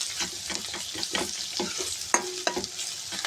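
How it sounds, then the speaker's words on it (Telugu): Ginger garlic paste fries in a pan for a moringa chicken curry, a close sizzle broken by repeated scraping strokes of a spoon stirring it, some sharp clinks near the end, and no voices. "మనం తీసుకున్న అల్లం వెల్లుల్లి పేస్ట్ వేసి ఒకసారి కలుపుకోవాలి."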